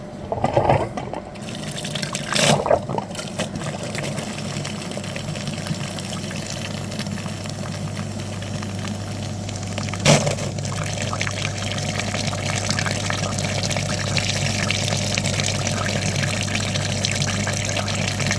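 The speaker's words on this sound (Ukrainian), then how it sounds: "Підключилось до радіатора пічки, очистили фільтр, вмикаємо апарат" A flushing machine pumps liquid through the heater radiator of a Mini Cooper, a loud steady hum with running water and gurgling throughout, plus a few clanks near the start and middle.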